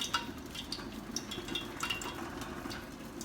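Cabbage with salt, grated coconut and green chilies is stirred in a pan, giving soft scraping and clinking of a spoon against metal over a light steady sizzle, close and moderately quiet.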